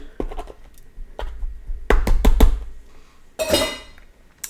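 A spoon scoops potting soil into small seed pots, making a series of close, sharp scrapes and taps with a few quieter gaps and a rustling scrape near the end.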